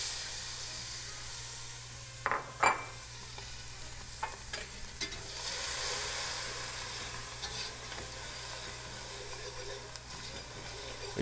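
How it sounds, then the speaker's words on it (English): Chopped vegetables for a shrimp gumbo land in a dark chocolate-brown roux and sizzle steadily, with a couple of sharp clatters early on and a broad frying hiss that holds through the rest under occasional stirring. "So now it's time to put in our vegetables."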